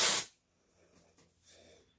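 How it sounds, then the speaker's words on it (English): Avon Elastine dry shampoo sprayed onto hair in one short, close aerosol hiss that cuts off quickly, followed by faint breathing and small movement sounds. "I feel like I need to spray some more"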